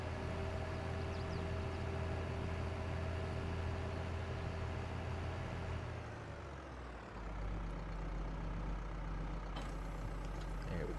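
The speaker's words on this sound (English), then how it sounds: "Go ahead and hop back in the tractor, and hook up to it, and head out back to the farm" A tractor in Farming Simulator 22 rumbles with a steady low engine drone, dipping briefly as it shifts or slows, then carrying on continuously with no talk over it.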